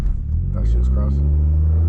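A BMW 340i with a big turbo and straight-pipe exhaust burbles with a deep, steady low rumble up close. Voices come through briefly over the engine noise.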